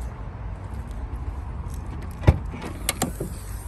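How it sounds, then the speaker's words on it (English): A 2017 Peugeot 208 GTi Prestige hatchback boot is opened, heard as a soft click followed by a few light mechanical clunks and a latch sound against quiet background. "If I go ahead and open the boot for you now,"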